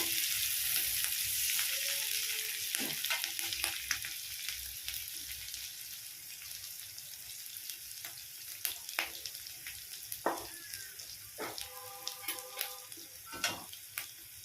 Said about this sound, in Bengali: এবার আমি কয়েক সেকেন্ড বেজে নিচ্ছি